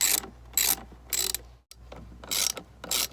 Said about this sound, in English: I just tightened mine down with a ratchet